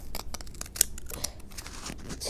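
Scissors cut through paper for a chibi cat craft, a rapid run of crisp close snips with one sharper clip partway through, heard on their own without speech.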